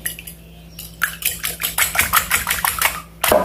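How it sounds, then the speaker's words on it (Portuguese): A manual egg beater whisks eggs in a bowl with a rapid, rhythmic clatter of metal beaters against the dish, starting after a brief quiet pause and stopping abruptly near the end. "Eu vou bater aqui com esse batedor de ovos manual"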